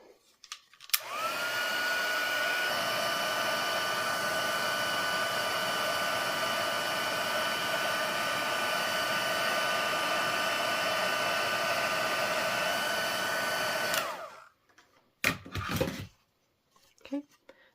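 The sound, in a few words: heat tool melting white embossing powder on stamped card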